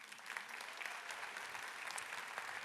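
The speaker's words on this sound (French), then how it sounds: "Pendant que la foule jalouse vous applaudit encore une fois." An audience applauds award winners at a corporate prize ceremony, the Palme Expérience Collaborateur, with steady, dense clapping from a crowd that holds at an even level throughout, heard from some distance and fairly soft.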